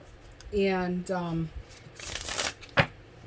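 A quick riffle of cards shuffled close by, a crisp fluttering burst after a short spoken phrase, followed by a soft tap.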